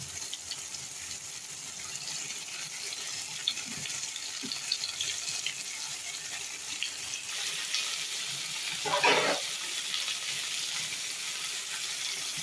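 Fish pieces laid into a pan of sizzling, fully sautéed tomatoes for Tamil meen kulambu fish curry. A steady, close frying hiss runs throughout, with a brief louder crackle and splutter near the end; no one speaks.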